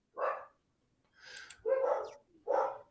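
Dogs bark from downstairs in a house, three or four separate woofs with short gaps between them, fairly clear but slightly muffled by distance.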